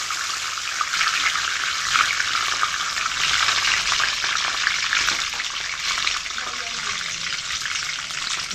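Cardamom, cinnamon, a dry red chilli and bay leaves frying in hot oil, stirred in the pan with a loud, continuous close sizzle and faint scraping throughout.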